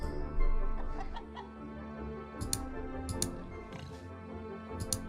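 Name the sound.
hens clucking in Orwell's Animal Farm video game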